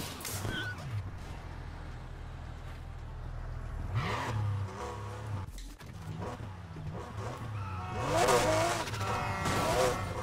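A hypercar in the racing game Need For Speed Heat accelerates with rising engine tones and revs, mixed with someone talking over it, the engine swelling louder toward the end.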